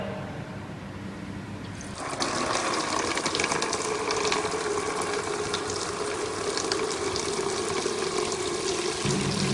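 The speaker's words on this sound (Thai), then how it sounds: "เมื่อได้อุณหภูมิที่ต้องการแล้ว ก็ เริ่มอาบน้ำได้เลยครับ" Shower water from a solar water heater starts running at about two seconds and keeps up a steady, broadband hiss and patter close by, with no talking.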